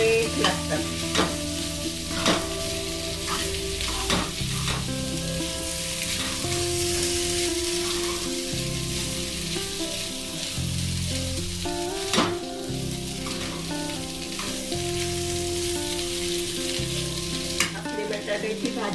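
Fasting-style potato bhaji fries in a pan while being stirred, steady close sizzling with scraping stirs and clinks of the spoon against the metal throughout, no voices.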